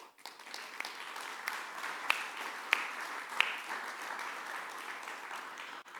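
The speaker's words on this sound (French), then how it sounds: "je vous demande de les applaudir." Audience applauds the volunteers at an opening plenary session, a sustained, even clapping from a sizable crowd with a few sharper individual claps standing out, ending abruptly.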